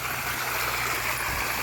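Small waterfall feeding a little stream in a flooded rural spot, a dense, steady rush of water close by, with no voices.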